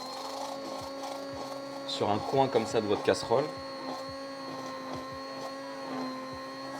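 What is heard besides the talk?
hand blender frothing foie gras velouté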